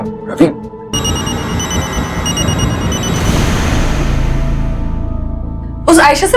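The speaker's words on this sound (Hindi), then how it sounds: "रवि फोन उठा।" A telephone bell rings steadily for several seconds during an Indian crime drama scene, with voices heard briefly before and after the ringing.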